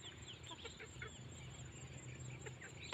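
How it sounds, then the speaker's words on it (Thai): Soft, low clucking from chickens pecking grass, scattered through a quiet outdoor scene, with faint rustling and pecking noises, no talking. "ดูไก่สิไก่ก็มาจิกหญ้ากินแบบนี้แหละ"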